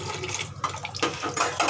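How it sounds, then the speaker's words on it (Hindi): Rice water is poured in a kitchen, a short splashing trickle with uneven gurgling bursts, fairly quiet and with no talking. "मैं राइस का पानी दे देती हूँ।"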